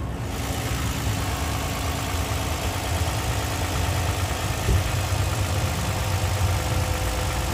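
A 2008 Toyota Highlander Limited with a 3.5 liter six-cylinder engine idles steadily under the open hood, a smooth, even low hum with a faint high whine, close and unchanging throughout.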